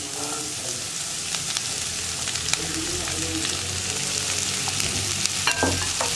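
Green beans, mustard seeds and dried chillies fry in a pan, giving a constant close sizzle with scattered pops and scraping stir sounds, and no one talks.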